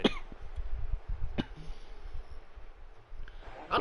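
A few sharp coughs from several people in a squad break through a low, steady background of American football game commentary, with one near the start, one in the middle and another at the end.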